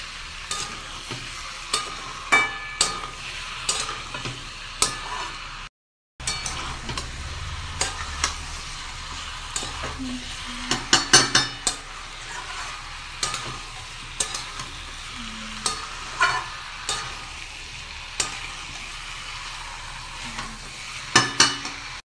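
Marinated chicken stir-fried in a pan for a curry, a soft steady sizzle with frequent sharp scrapes and clacks of a spatula against the pan, fairly quiet and close, with a short gap of silence partway through.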